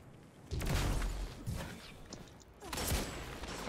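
Bursts of automatic gunfire in a competitive shooter video game tournament, two loud clusters of rapid shots separated by a brief lull, fairly close and sharp.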